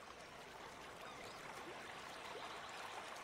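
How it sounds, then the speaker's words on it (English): A character drops into water in the game Summer in Mara, with a faint, steady wash of splashing and trickling water that runs through the whole short moment. "I fell in the water."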